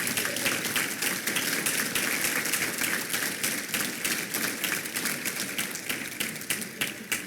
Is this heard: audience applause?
yes